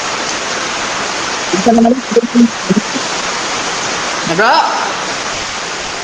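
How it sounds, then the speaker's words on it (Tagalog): Rain falling outside during an indoor debate gathering, a steady broadband hiss filling the background, with brief voices speaking over it. "Oh, gaulan diri sa kuha."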